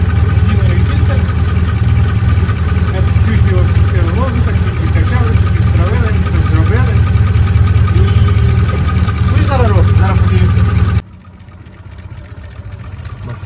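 A Volga GAZ-24 car engine idles with a steady low rumble throughout, loud and close, with a person talking over it; the level drops sharply near the end as the running sound becomes quieter.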